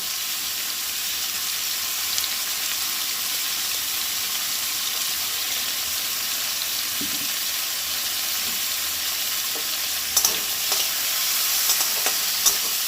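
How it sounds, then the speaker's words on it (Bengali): Meat sprinkled with a little salt sizzles steadily in a hot wok, a dense close hiss with scattered spatters and a few clinks of stirring toward the end, no voices. "এবার মাংসটাকে খুব ভালো করে ভেজে নেব"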